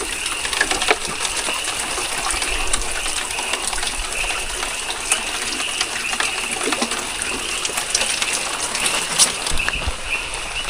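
Water gushes steadily at a cold mountain stream on Mt. Talinis while a container is filled, a continuous near rush with scattered splashes and no talk.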